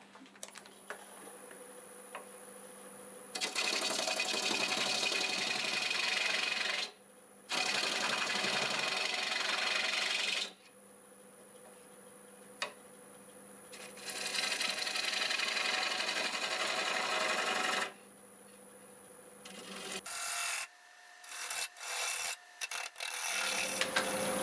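Wood lathe turning a juniper tenon with a sharpened half-inch bowl gouge: several long, even scraping cuts separated by pauses, close and steady over the spinning motor hum, ending in short choppy passes; no talk.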